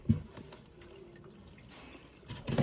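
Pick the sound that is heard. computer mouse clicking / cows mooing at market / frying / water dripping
water dripping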